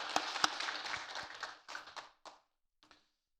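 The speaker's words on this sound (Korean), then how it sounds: "인사할 때 격려의 박수 드리겠습니다." A church congregation claps in encouragement for departing and newly appointed staff. The clapping is faint and thin, a few scattered claps that taper off over about two and a half seconds, with one last soft clap afterward.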